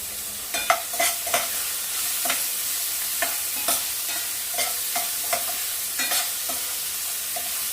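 Onions and green chillies frying in a pan with a little salt, a soft steady sizzle broken by repeated sharp spoon scrapes and stirring knocks at irregular intervals.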